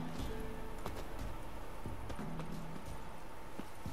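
Faint clip-clop of horse hooves plodding in an irregular rhythm over a dense background hum, with a few soft knocks scattered throughout, in the video game The Witcher 3: Wild Hunt.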